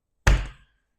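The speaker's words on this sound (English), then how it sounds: "We're going to smash our garlic" A single heavy knock as a knife blade presses down to smash garlic cloves for homemade aioli, one close, sharp thump that rings briefly and fades, with no talk.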